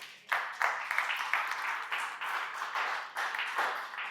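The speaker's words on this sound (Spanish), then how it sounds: "Denle un aplauso al Espíritu Santo" Church congregation applauding, a scattered wash of hand claps that swells and dips in uneven bursts for a few seconds, fairly near and moderately loud.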